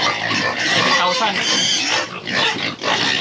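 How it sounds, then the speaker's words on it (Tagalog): Pigs on a farm pen awaiting sale, a loud, close chorus of grunts and oinks that stays continuous and overlapping, with a voice faintly speaking among them. "Ngayon ay Simulan natin itong mga baboy."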